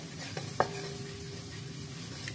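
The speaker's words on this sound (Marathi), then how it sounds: "अगदी पोहे कुरकुरीत भाजून घ्यायचे आहेत" Thin poha flakes are dry-roasted in a pan over low heat, giving a soft continuous sizzle and rustle with a couple of light stirring scrapes against the metal.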